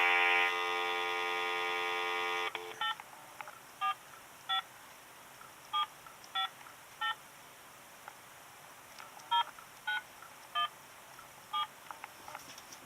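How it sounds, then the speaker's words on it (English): A landline dials a New York number: first a long, steady two-tone burst, then a string of short, evenly spaced keypad beeps in an irregular rhythm, clear and isolated against a faint background hiss. "Let's see what happens if I call them on the phone"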